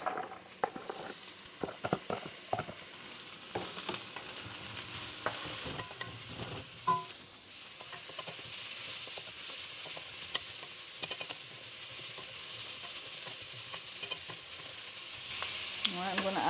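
Cabbage, carrots, seasoning peppers and currants sizzle steadily in a hot pan for fried rice, with repeated scraping and stirring strokes and clattering utensil taps over the constant frying hiss.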